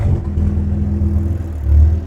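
A Toyota Supra A90 with a DCT gearbox and an axle-dump exhaust runs with a steady, loud, deep engine drone up close. The engine swells slightly near the end, and no talking is heard.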